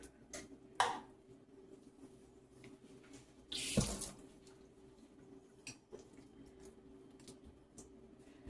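A kitchen tap runs briefly to wet the back of a spoon while a Mounds bar dessert is made. There are two short bursts of water, the second louder, with faint clinks between them and a quiet room.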